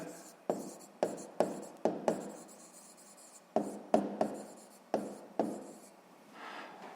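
Digits being written for a sixth-grade math exercise: a run of quick, crisp pen taps and short strokes in uneven clusters, close and soft, under a faint voice.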